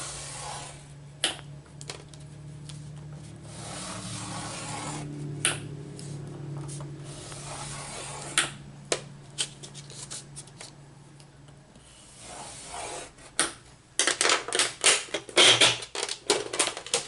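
A scoring tool is drawn across chipboard, making short scraping strokes and sharp scratchy bursts up close, with quiet pauses between, then a denser flurry of scraping toward the end.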